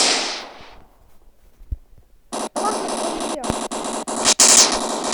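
Automatic gunfire from the Standoff video game: after a quiet stretch, loud, dense bursts of rapid shots run almost continuously through the second half, broken by a few brief gaps.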